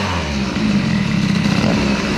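A Stage6 scooter engine fitted with a hybrid air-cooled Mk2 kit, not fully warmed up, revs loudly and close, a steady buzzing drone that swells slightly midway and holds, with no talk over it.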